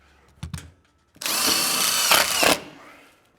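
Power drill driving screws into a wall stud while framing a wall: a short trigger blip, then a loud, close whirring run of about a second and a half that ends with a brief surge before winding down.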